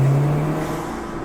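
An Audi S3 / VW Golf R engine with a loud intake modification holds a short, strong rev, a loud steady engine roar close by, with no voices.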